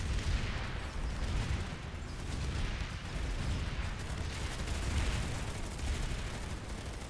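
Dense Planetside 2 battle noise: a thick, continuous roar of gunfire and explosions, including grenade blasts, with no single shot standing out from the wash.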